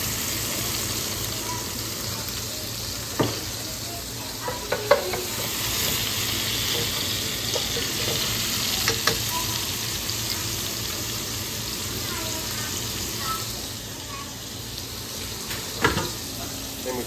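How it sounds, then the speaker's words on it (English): Garlic sizzles steadily in a pan while it is stirred, with occasional scrapes and clicks of the utensil against the pan over a continuous frying hiss. "Gonna get a little bit of garlic. I love garlic, I use a lot. Let that start cooking a minute."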